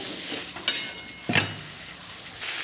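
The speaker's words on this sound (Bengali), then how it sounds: "এর ভিতর ভেজে রাখা আলুটা এবার এটা মাংসর মতো ফ্রাই হবে" Pre-fried potatoes and soybeans frying in a pan, a steady sizzle broken by a few loud scrapes and clatters of stirring; no talk.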